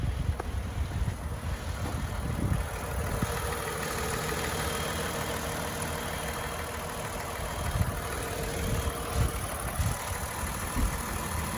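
A 2020 Toyota Sienna engine idles with the hood open, a steady low smooth hum with faint mechanical whir, recorded close and outdoors with slight wind, no talking.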